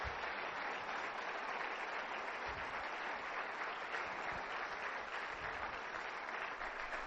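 Sustained, steady applause from an event audience honoring the event coordinators and managers, an even dense wash of clapping held at moderate distance without a break throughout.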